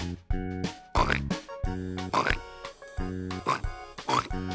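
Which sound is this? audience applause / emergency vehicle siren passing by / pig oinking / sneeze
pig oinking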